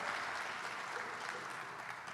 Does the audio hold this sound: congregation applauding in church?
yes